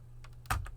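Typing on a computer keyboard, a few quick soft keystrokes ending in one firmer key press, close and alone over a faint hum.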